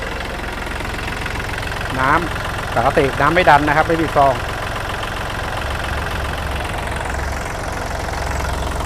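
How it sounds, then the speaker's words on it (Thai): The diesel engine of a 2019 Kubota L4018 tractor idles with a steady, even rumble throughout. Someone talks over it near the middle. "เครื่องติดง่ายนะครับ"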